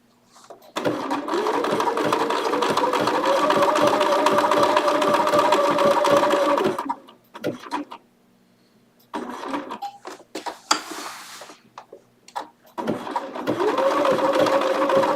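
A Bernina sewing machine stitches steadily from close by, running in a long continuous burst, stopping, then starting again briefly near the end, with small handling clicks in the pause.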